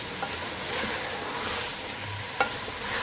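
A spoon stirs a Pakistani mixed vegetable curry with capsicum in a pot, giving a soft, steady scraping and low sizzle with a single brief clink near the end, heard alone.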